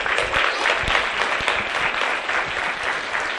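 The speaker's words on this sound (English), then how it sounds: "let's have a big round of applause for Mr. Beal." Audience at a school young composers' concert night claps loudly and steadily for a few seconds, a dense round of applause with a few sharper claps standing out near the front.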